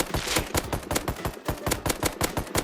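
The SAR rifle in Rust fires in quick, evenly spaced, sharp cracks, a loud and close automatic string of about a dozen shots.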